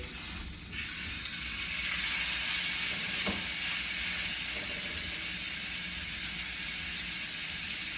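A steak frying in butter in a pan: a loud, steady sizzle and hiss close up, with a brief clink partway through and no talk.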